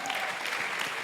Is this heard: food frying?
no